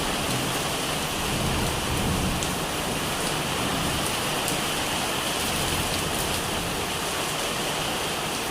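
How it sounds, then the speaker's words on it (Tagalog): Heavy rain pours down steadily, a dense, loud hiss of water drumming on surfaces without pause. "Lakas na ng ulan"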